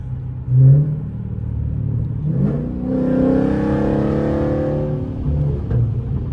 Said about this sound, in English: this car is like 10 times louder